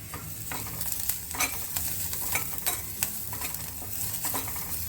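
Curry leaves, cumin and mustard seeds sizzle and crackle in hot oil while being stirred, with scattered pops and the scrape of a spoon against the pan, close and moderately quiet.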